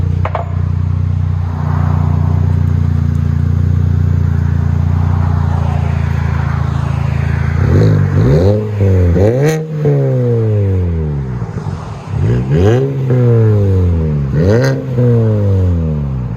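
A 2004 Mini Cooper with a Magnaflow Magnapack exhaust idles with a low steady rumble, then revs sharply several times in quick rising and falling bursts, loud and close.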